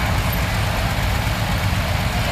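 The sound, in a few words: old tractor engine running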